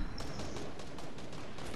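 Rapid gunfire in the video game Fortnite, a dense crackling burst of shots running steadily throughout, fairly loud and continuous.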